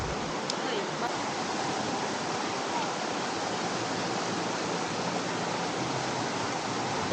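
A river stream flows at the Sungai Pertak picnic spot in Kuala Kubu Bharu, a steady, dense rushing wash of water that holds level throughout.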